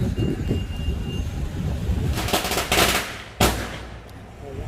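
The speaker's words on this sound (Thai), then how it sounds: "นี่จุดประทัด" Firecrackers go off at a Thai temple celebration in Phuket, a rapid crackling burst followed by a sharp loud bang, close by amid outdoor crowd noise.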